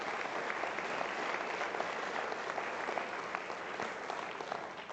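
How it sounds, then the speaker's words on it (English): Audience applause for a university foundation at a fall address, a dense, even roar of many hands clapping that holds steady throughout at moderate volume with no talk. "So let's give them an applause."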